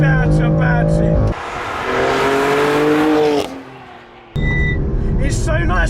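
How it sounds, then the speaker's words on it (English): BMW F82 M4 at stock power with upgraded suspension, driven hard on a track, its engine loud and close, revving and shifting with rising pitch, a brief lift-off, then pulling again. "It's so nice to drive this car at stock power levels actually, especially with upgraded suspension."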